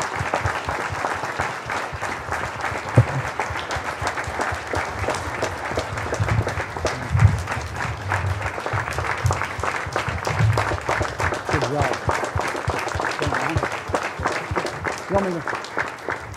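An audience at a mayor's night out applauds a police officer, steady sustained clapping from a room of people lasting throughout, with some voices and murmurs mixed in beneath the applause.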